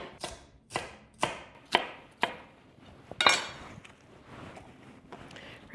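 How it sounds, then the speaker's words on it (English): A knife chops a red bell pepper on a cutting board with six or seven sharp, evenly spaced strokes, then a few softer, scattered taps, close by with no talk. "before I dice up the red bell pepper"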